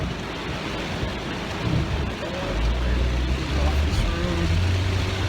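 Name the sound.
heavy rain with thunder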